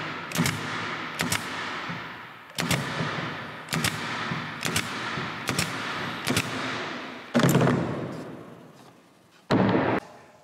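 A Cadex 23-gauge pin nailer drives nails into plywood, producing about nine sharp, loud pneumatic snaps at irregular intervals, each followed by a short fading hiss.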